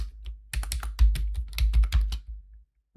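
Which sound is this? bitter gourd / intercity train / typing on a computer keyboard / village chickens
typing on a computer keyboard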